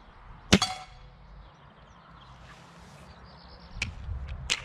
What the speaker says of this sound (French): on entend quasiment que le bruit de la cible